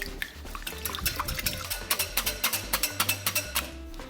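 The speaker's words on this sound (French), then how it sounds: "on mélange" Honey being stirred into a mixture in a bowl, with a series of soft, rhythmic scraping and clinking strokes close up that grow more regular toward the end; no talking.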